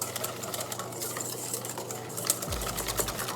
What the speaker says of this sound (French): Et là, on va commencer à fouetter